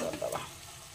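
Greens cooking as saag in a pan, stirred while they fry, heard as a brief close scrape over a dense steady sizzle.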